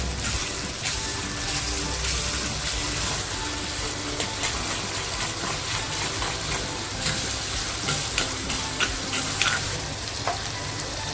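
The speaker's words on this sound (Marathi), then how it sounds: "कांदा थोडासा आपल्याला लालसर करून घ्यायचंय आहे टॅमॅटो जो घेतला होता ना तो टाकतीये" Onion and tomato frying in a pan for a dhaba-style potato curry, a dense, continuous close sizzle that holds steady throughout, with faint scraping stirs near the end and no voices.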